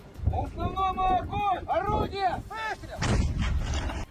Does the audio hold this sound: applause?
no